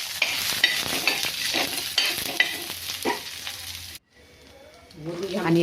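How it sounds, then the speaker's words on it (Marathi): Onion roasting in a little oil for a Latur-style patavadi rassa, sizzling and crackling steadily with stirring scrapes through most of the stretch, then a brief pause before quieter frying resumes. "थोडंसं तेल टाकून भाजून घ्यायचं आहे आपल्याला।"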